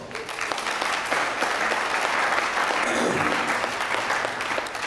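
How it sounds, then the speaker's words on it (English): A speech contest audience at PCC breaks into loud, continuous applause to welcome a speaker, a thick wash of many hands clapping close by with no voices over it. "Please give her a welcome round of applause."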